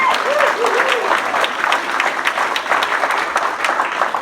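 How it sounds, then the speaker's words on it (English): Crowd at a campaign kickoff rally for a Third District Supervisor candidate applauds steadily, with cheering voices and a brief sung or whooped tone near the start. "let's give a round of applause to that."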